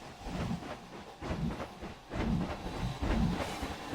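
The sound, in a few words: train passing in the video game Planet Coaster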